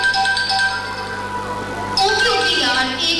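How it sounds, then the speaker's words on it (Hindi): A phone rings with an incoming call at a school Mother's Day celebration, a repeating electronic ringtone with steady tonal pulses that grows louder and brighter partway through, with voices faintly in the background. "किसकी कॉल है? अटेंड तो कर लो, बार बार आ रही है"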